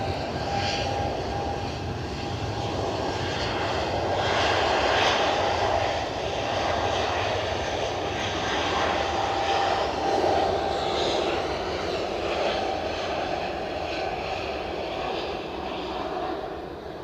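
Aircraft engines revving up for takeoff at Edinburgh Airport, a steady, loud roar that swells slightly and holds for the whole stretch without pause.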